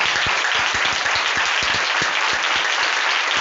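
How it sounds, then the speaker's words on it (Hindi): A church congregation at a Sunday prayer meeting gives sustained, loud applause, with individual claps standing out rhythmically within a continuous wash of clapping. "पवित्र आत्मा परमेश्वर की एक जोरदार ताली हो जाए"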